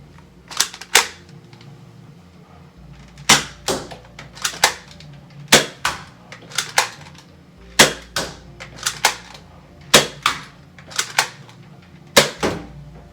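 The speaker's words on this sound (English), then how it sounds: "I'm going to shoot down the hallway, try to hit the dartboard at the end, and I'll start off with the Dart Zone Outlaw" A Dart Zone Outlaw foam-dart blaster fires repeatedly down an indoor hallway, sharp close snapping shots in quick pairs and singles, each followed by a short gap, with a faint background hum and no talking.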